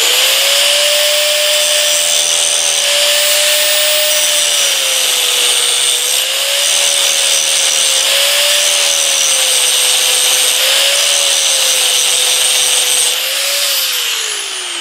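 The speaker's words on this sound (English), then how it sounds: "find your grinder, which is here, and just grind that down a little bit" A handheld grinder grinds down a metal clutch bush, a loud steady high-pitched whine held for the full stretch with slight dips in pitch as the load shifts, close by and without speech.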